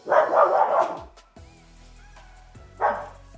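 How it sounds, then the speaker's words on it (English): A dog barks twice at close range, a loud burst of rapid barking followed after a pause by one shorter yelp, with a faint hum between them. "She just finds something to bark at."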